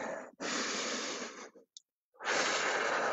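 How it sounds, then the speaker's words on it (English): A person holding a plank takes slow, deep breaths close to the microphone: a long airy exhale, a brief pause, a quick catch of breath, a silent gap, then another long breath, with no speech. "Five breaths each time. Slow breaths."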